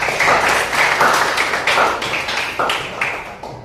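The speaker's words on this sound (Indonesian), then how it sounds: "Kita beri aplaus untuk kelompok 1" A classroom of students applauding a group: dense, loud, sustained clapping from many hands nearby, rising and falling slightly in rhythm throughout.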